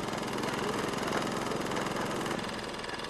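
Ryan's water well drilling rig running at a village well site, a loud, steady mechanical engine drone with a rapid chugging pulse that holds throughout without pause.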